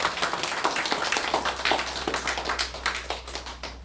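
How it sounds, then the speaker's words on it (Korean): A Korean church congregation claps after a prayer, fairly quiet, with distinct individual claps in a loose rhythm over a low hum, thinning out toward the end. "큰 박수 부탁드리겠습니다."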